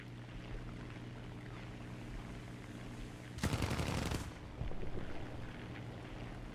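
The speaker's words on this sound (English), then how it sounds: "Firing machine gun rounds at tanks I can't pin." A machine gun in War Thunder fires one rapid burst of about a second over a steady engine drone, loud and close, followed by a fainter rumble.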